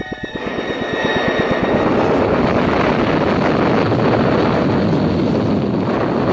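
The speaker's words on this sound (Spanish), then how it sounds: "El estruendo de los potentes motores del proyectil Atlas se dejó escuchar como un trueno multiplicado varias veces" A deep, continuous roar builds within the first second and holds steady and loud, like powerful Atlas rocket engines firing at launch.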